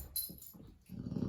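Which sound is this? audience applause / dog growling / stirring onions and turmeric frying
dog growling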